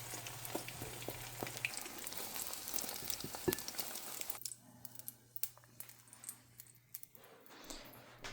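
Beaten egg mixed with seasoning powder stir-fried in a pan, a steady close sizzle with scraping stir strokes and a few sharp clinks, the frying hiss thinning out partway through.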